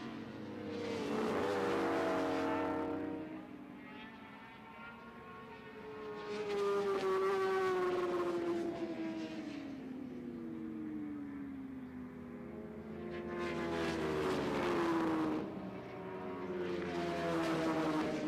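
Litre-class motorcycles in an Alpe Adria Cup 1000 race at the Pannonia Ring in Hungary scream past in three separate waves, each engine whine swelling, dropping in pitch as it passes and fading away.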